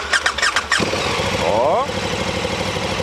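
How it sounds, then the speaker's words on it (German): KTM 1290 Super Duke GT 2022 motorcycle cranking with a starter whine, then catching and settling into a loud, lumpy, close idle, with a brief spoken word at the start. "den Motor anmachen. Es wird also laut."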